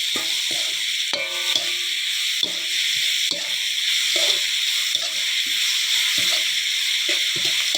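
Seasoning powder and sugar stirred into food frying in a pan after soy sauce: a steady bright sizzle runs throughout, broken by repeated scraping and clacking strokes of a utensil against the pan at close range.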